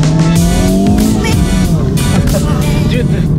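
A Honda Civic Type R FL5 pulls hard on a highway, its loud engine note rising in a steady climb with faint tire and road roar, while people talk inside the cabin.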